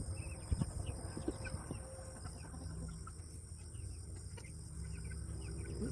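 A rooster calls amid a busy farmyard, with scattered clucks and bird chatter over steady outdoor background noise.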